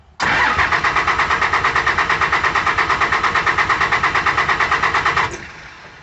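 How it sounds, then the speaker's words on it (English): An older diesel truck engine cranks and catches, its starter chugging in a steady rapid rhythm for about five seconds before settling into a quieter idle, loud and close with no talk. "But this truck will start and run."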